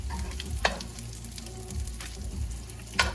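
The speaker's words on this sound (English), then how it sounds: "So I char them on the stove so they get all crispy" Meatballs char in a hot pan on a stovetop, giving a steady, close sizzle and crackle, with a few sharp clacks as they are turned.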